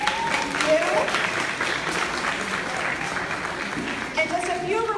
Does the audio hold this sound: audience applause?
yes